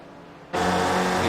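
Race car engine on the Sebring Club circuit, silent at first then cutting in abruptly as a loud, steady high-revving roar that holds to the end.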